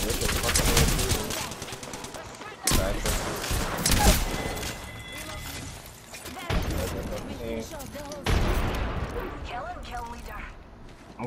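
Gunfire in the video game Apex Legends: loud bursts of rapid automatic shots and heavy impacts come in waves, overlapping busy in-game effects at close range.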